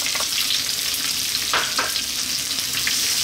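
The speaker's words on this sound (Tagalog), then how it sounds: "So lulutuin lang natin sadali yung ating onion at ang ating bay leaf" Onion and bay leaf frying with garlic in a pan for a Filipino sautéed bottle gourd and tuna dish, a steady close sizzle throughout with a couple of brief stirring scrapes, no talking.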